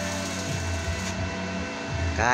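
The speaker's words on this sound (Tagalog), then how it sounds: "Ayan, oh, binabanatan na niya yung pag-welding." Arc welding with a welding rod in a Filipino welding shop at night, a steady loud buzzing crackle running throughout, with a voice talking over it.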